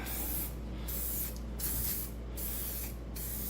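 Close aerosol spray paint hisses steadily onto a Ducati Monster fuel tank for a cafe racer build, in several continuous bursts with short breaks between them.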